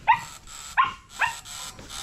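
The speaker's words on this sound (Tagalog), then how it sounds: "Aso pala yung naandun eh." A dog barks three times at close range, sharp, evenly spaced yelps, followed by a quieter fourth bark.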